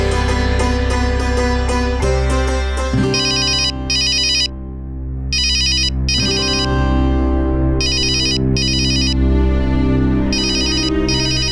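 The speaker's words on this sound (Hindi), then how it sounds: "वो जमुना लाल जी का फोन है" A telephone ringtone sounds loudly and alone, repeating in bursts of electronic chimes with short gaps between them, in a household setting.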